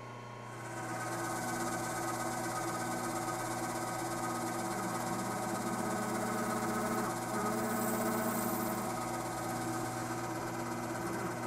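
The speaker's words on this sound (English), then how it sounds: "we'll just go and drill the other ones" A power drill with a dull bit whirs steadily at close range while drilling holes, its motor holding a constant buzzing pitch for several seconds with no voices.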